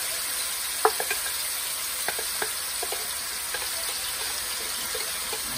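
Chopped tomato sizzling and frying in hot oil in a pan, a steady crackling hiss with scattered sharp pops and spatters, close and continuous with no talking.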